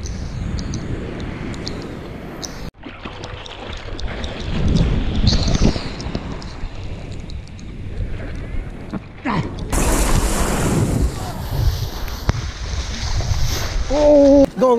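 Ocean surf at a beginner surfing spot roars steadily with loud continuous wash and rumble, waves breaking and churning close by, with wind noise and brief voices near the end.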